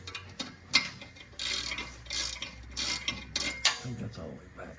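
A motor is turned by hand with a ratchet, giving irregular bursts of clicking and ratcheting strokes, close by, with pauses between pulls and faint background noise.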